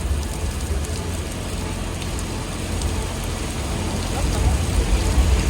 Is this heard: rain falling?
yes